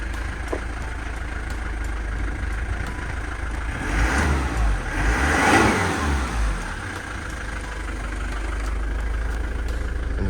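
A Mitsubishi Delica Space Gear engine, with its throttle body freshly cleaned and its gasket replaced, idles steadily, then revs up in a swelling burst near the middle and settles back to a low idle. It is heard close up with no talking.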